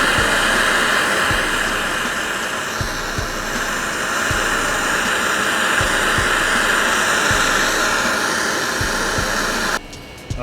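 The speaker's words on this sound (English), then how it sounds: "So I just get the torches ready. And I heat it up." A roaring torch flame heats a vehicle suspension part to loosen it, a steady loud broadband hiss running continuously with faint low knocks beneath, cutting off abruptly near the end.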